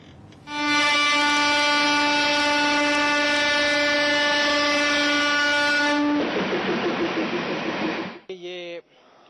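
A train in the Kashmir Valley sounds a long, loud, steady horn for about six seconds, then a rougher rumbling rattle follows before it fades.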